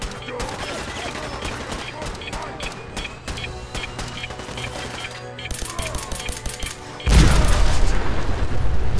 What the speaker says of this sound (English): Who's shooting like that?